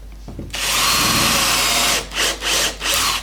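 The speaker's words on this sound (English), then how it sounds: "using the battery drill, I bore a 3mm countersunk hole in each corner" A battery drill whines loudly as it bores a 3mm countersunk hole in wood, running steadily and then stopping and starting in three short bursts near the end.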